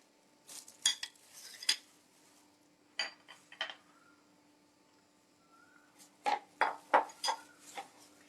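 Salsa finished with coriander is mixed in a bowl, giving soft clinks and scrapes of a utensil against the dish in two short bursts with a quiet pause between, faint and near, and no talk.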